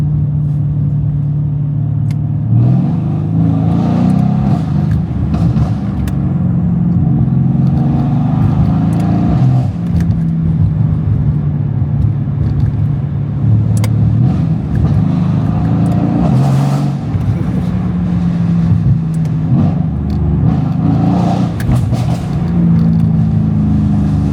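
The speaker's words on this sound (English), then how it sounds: "I heard you guys want to hear some revving, some ambitious driving, some noise, some V8." A loud Mercedes-AMG V8 engine rumbles and revs over and over at night, rising and falling as it drives, with no voices, close and steady throughout.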